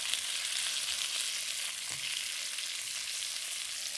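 Chunks of meat browning in a hot pan, a steady, even sizzle and hiss of frying throughout, fairly quiet and close, with no voices.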